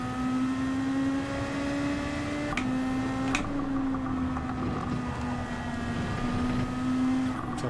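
A Gran Turismo 7 race car engine drones steadily at high revs through a Group 2 daily race at Autopolis, with a couple of brief gear-change dips and no talk over it.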